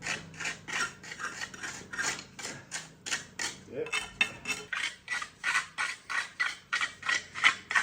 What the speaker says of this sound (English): So we're now scraping the wall after having pointed the wall, and then brushing the wall appropriately.